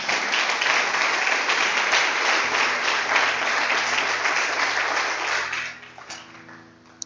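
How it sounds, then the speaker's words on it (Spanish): A church congregation applauds steadily and loudly for several seconds, a dense wash of clapping that thins and fades near the end, with a low hum underneath. "Denle un aplauso al Señor."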